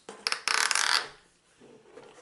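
A plastic toy clock on top of a Sesame Street Lights 'N Sounds Elmo's School Bus, spun by hand, gives a close burst of rapid ratcheting clicks that fade into quiet.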